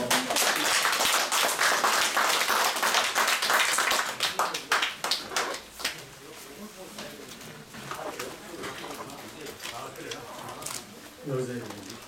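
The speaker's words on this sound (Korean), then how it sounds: "큰 박수로 맞아주십시오." An audience at a cultural heritage society lecture in Daegu claps loudly and densely to welcome the speaker, then the applause thins and fades under a speaking voice.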